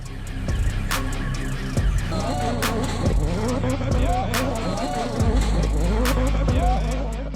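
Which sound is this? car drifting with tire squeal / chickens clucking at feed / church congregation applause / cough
car drifting with tire squeal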